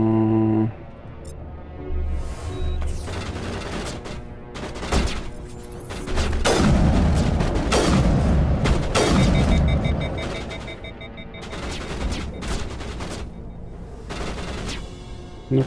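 Loud, sustained gunfire from heavy weapons in the video game Mass Effect, on the Asgard asteroid X57 mission, with rapid bursts and booming shots packed densely throughout and a few short pauses between volleys.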